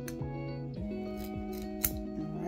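Scissors snipping a candle wick, a few crisp metallic snips spaced about half a second apart, close and fairly quiet over faint background tone.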